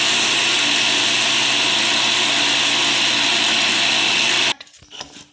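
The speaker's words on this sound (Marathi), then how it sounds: "आता हे मिक्सरमधून बारीक करून एकजीव घेऊया।" A mixer grinder runs loud and steady while grinding flaxseed and green chilli chutney, a continuous high whirring drone that cuts off abruptly near the end, followed by a few faint clatters.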